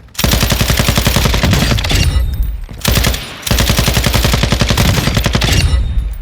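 A Sakin MG38 light machine gun in Call of Duty DMZ fires loud, rapid sustained bursts of tightly spaced shots, with two short breaks between the long strings of fire.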